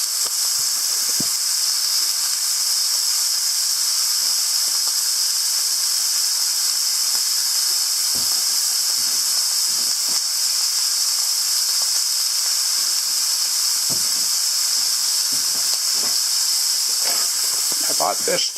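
Steak sizzling in a pan while cooking off grid, a steady bright hiss holding at an even level throughout, with small scattered pops and crackles and no talk.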